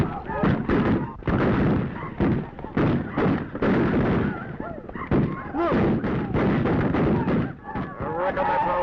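Gunfire from a 1935 western serial battle at a fort crackles in rapid overlapping volleys, loud and continuous with shouting voices mixed in.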